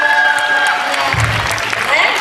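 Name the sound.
audience applause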